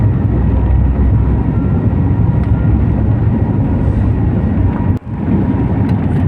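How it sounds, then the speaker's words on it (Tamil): Airliner cabin on a Singapore to Chennai flight during takeoff: a loud, steady engine roar and rumble fills the whole stretch, with a brief dip and click near the end. "ஃப்ளைட் வந்து டேக் ஆஃப் ஆகிடுச்சு."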